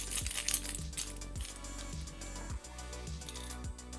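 Metal coins, Ukrainian one-hryvnia pieces, clink inside a piggy bank in a steady series of bright chinking hits about every half second. The sound is close, with no talking.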